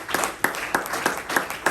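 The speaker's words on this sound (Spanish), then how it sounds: "Dámele fuerte el aplauso a Dios." A church congregation clapping in a steady rhythm, with sharp regular claps about three per second, fairly loud and close, with no voices over them.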